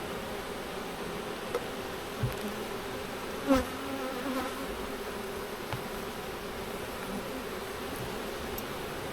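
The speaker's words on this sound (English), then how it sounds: "That's a lot of bees right there." Honey bees from an opened hive during an inspection, a dense, steady buzzing swarm close by, with a few soft clicks and rustles of handling the frames.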